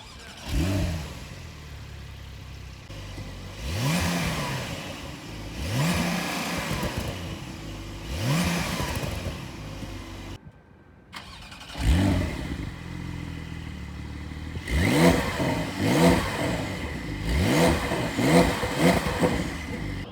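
A Porsche 992 Carrera accelerating, its engine and exhaust rising through repeated revving sweeps, first in slower spaced pulls and then in quicker close bursts after a short gap.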